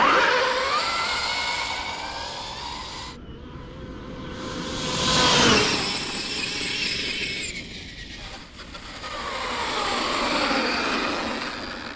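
A Losi 5ive-B RC car fitted with a KiloWattRC motor runs on dirt, its electric whine rising and falling in long sweeping passes, loud and close, with a brief drop in the middle before it surges again.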